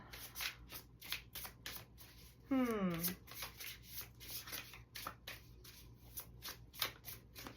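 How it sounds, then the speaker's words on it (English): Oracle cards riffle and slide in repeated quick bursts of rustling and clicking, close and steady, with a brief gliding squeak partway through. "Let's get another round of cards out here. Get the Empathic Oracle out."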